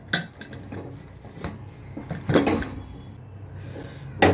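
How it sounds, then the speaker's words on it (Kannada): Metal clatter and scraping as a pressure cooker lid is worked open after the whistle, while Karnataka-style mutton sambar cooks at home, with a few sharp knocks and a brief burst of hissing steam near the middle. "ಇವಾಗ ಬಂದು ಕುಕ್ಕರ್ ಓಪನ್ ಮಾಡೋಣ"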